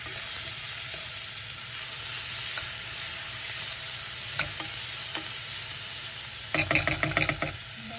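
Onions sauté lightly in a pan for athiradi kootu, giving a steady close sizzle with occasional spoon taps and a quick burst of rhythmic knocks and scraping near the end.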